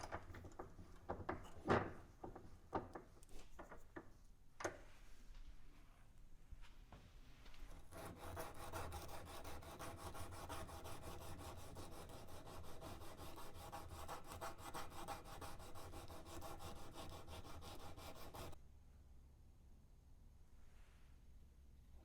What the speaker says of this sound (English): I'll just put it in the vise and do a little bit of hand sanding on that